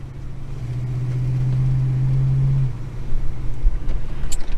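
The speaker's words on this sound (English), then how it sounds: "I did not see that car coming" A single car swishes past close by, its engine rumble swelling and then fading over a few seconds, with steady road and cabin noise continuing underneath.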